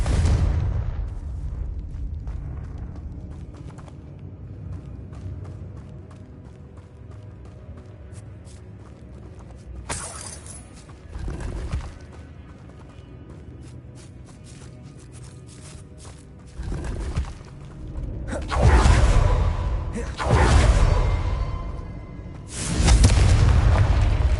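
Explosive Confringo spell blasts in the Hogwarts Legacy video game, a series of deep booming detonations spaced across the stretch, growing heavier toward the end, with quieter rumbling and scattered impacts between them.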